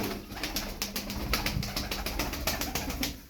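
Pigeons of a blue flock coo and shuffle close by, with soft repeated calls and occasional wing flaps over a low, steady background.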